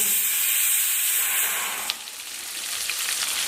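Onions sautéing in a pan for a Kumbakonam-style onion sambar: a dense, close, hissing sizzle that stays loud throughout and eases slightly after a small clink partway through.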